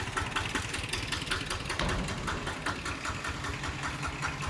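Vehicle engine idling steadily as it drives off a rice mill's weighing scale, a continuous rumble with faint mechanical rattles and ratcheting clicks, no talk.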